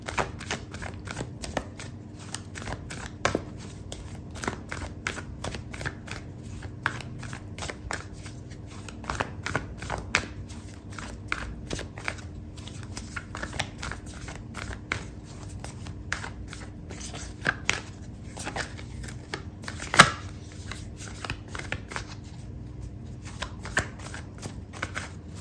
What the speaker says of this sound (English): I'm gonna pull out an oracle card for you